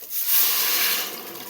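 Water pours steadily into a pot of oil-coated rice, a soft broad hissing splash lasting a moment at close range with no voices.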